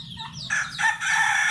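Farm chickens, kept alongside ducks and fed a mash mixed with banana stalk, cluck and a rooster crows nearby, the call rising in a couple of loud bursts over soft background murmur.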